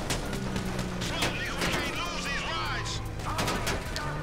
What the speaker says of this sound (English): They're still shooting me, but that's fine as long as they keep following.